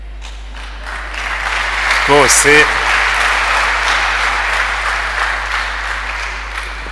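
Audience applause, a steady wash of clapping that swells around the middle, with a speaker's voice briefly heard over it.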